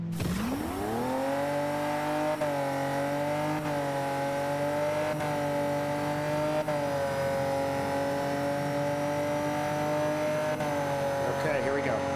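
A race car engine holds a steady, loud drone through a long hard turn, its pitch slowly climbing and straining, with faint tire noise and a voice speaking over it.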